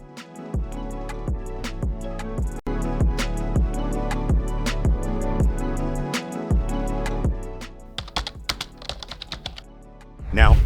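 Fingers type on a computer keyboard in a steady run of crisp, close clicks, then a quicker scatter of keystrokes near the end, with music playing underneath.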